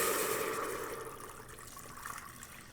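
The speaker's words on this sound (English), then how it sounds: "And then I'm going to add 3 cups of water." Water pours from a container into a hot pan with melting butter for stuffing, a short liquid splash and rush that fades over a few seconds.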